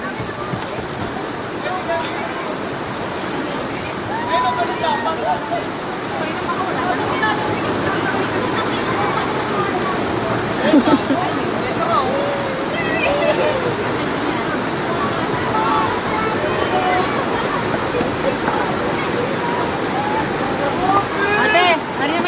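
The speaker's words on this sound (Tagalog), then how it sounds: "Malakas ng alon." Strong waves surge and break on the water, a constant loud rushing that runs through the whole stretch while people talk over it.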